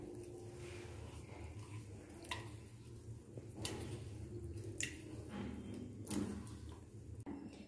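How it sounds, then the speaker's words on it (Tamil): Ragi flour worked into water by hand to a smooth, lump-free batter, giving soft wet squishes and intermittent sharp slaps and clicks against the bowl, close up with no talking. "கை வச்சு நல்லா ஒன்று போல் கரைச்சிடுங்க, கட்டி கட்டி இல்லாமல் கரைக்கணும்."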